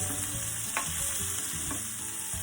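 Carrots, onions, celery and bay leaves fry in a pan, a constant bright sizzle with a few soft stirring scrapes, close and alone without talk.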